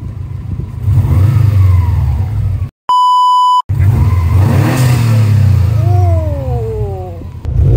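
A car with an aftermarket Invidia R400 catback exhaust revs up and falls back twice, throaty and close, broken by a short electronic beep.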